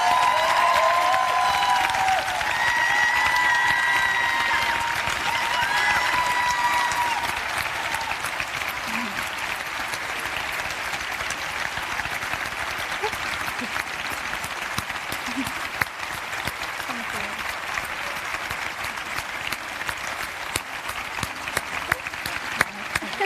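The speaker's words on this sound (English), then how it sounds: "One Young World, please give these 4 women this huge round of applause." Long, full applause from a large summit audience, loud at first with some cheering and voices, then settling into steadier, slightly softer clapping that carries on for many seconds.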